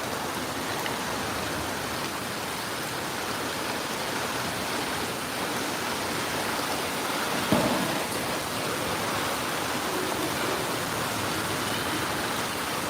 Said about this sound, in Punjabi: ਜੰਡੋ ਕੇ ਸ੍ਰੀ ਮੁਕਤਸਰ ਸਾਹਿਬ ਬਹੁਤ ਜ਼ਿਆਦਾ ਮੀਂਹ ਹੈ